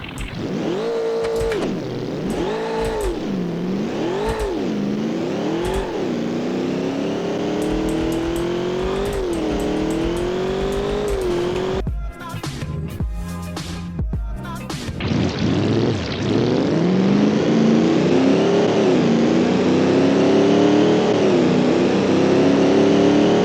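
Custom engine sound for a car in the BeamNG driving game: a revving engine rising and falling repeatedly, then a stretch of crackling, popping bursts, then a sustained climbing drone as the car accelerates, loud and continuous with no talk.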